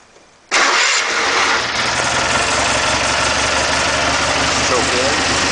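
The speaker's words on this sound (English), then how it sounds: "Okay, I'll show you how the tractor starts." A tractor with a Kohler engine, converted from a mechanical to a vacuum fuel pump, cranks and catches after a short quiet moment, then settles into a steady, loud, close idle that continues to the end.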